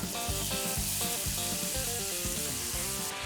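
Chicken coated in chimichurri fries in heated oil and butter, giving a steady, dense sizzle throughout with rhythmic melodic backing beneath it.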